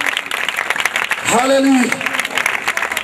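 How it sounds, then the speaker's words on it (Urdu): A congregation at a Christian deliverance gathering in Iqbal Town claps in a fast, busy rattle, while a voice rises loudly over the applause and then continues speaking. "تالیاں تالیاں تالیاں"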